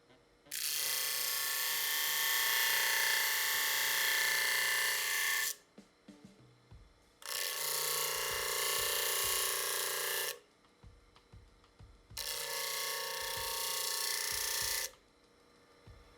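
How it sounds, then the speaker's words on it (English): Metal seat mounts on a Harley Sportster are ground down, three loud sustained bursts of harsh grinding, each several seconds long, separated by brief pauses with faint clanks. "So I'm going to grind these"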